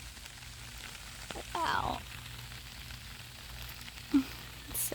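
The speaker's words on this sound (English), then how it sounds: "It is raining," Rain falls steadily on a home vegetable garden, a soft continuous patter and hiss close by, with a person briefly voicing a short exclamation over it.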